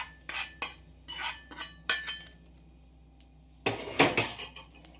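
Fried onion and green chillies scraped from a pan into a dish with a metal spoon, several sharp clinking and scraping strikes of metal on cookware, a pause, then a louder cluster of scrapes, close, no talking.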